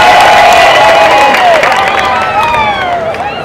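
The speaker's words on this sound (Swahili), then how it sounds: "Jipigieni makofi tafadhali." A large crowd in a packed stadium at a CCM election rally claps and cheers loudly, with shouts and rising, wavering calls riding over the clapping. The noise eases slightly toward the end.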